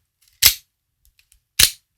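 Two sharp mechanical snaps about a second apart as a Benchmade Infidel OTF knife blade fires, each a quick crisp thud-click, close up with silence between.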